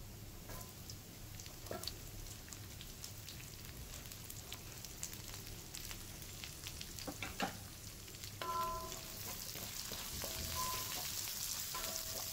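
Garlic and onions sauté in a pan with a continuous soft sizzle, punctuated by scattered crackles and occasional clicks of stirring, close by and without any talking.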